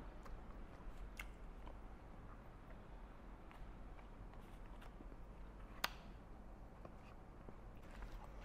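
Soft bites and chewing of a strawberry and chocolate dessert at a bar in Pattaya, faint and close, with a low background rumble and one sharper crunch partway through.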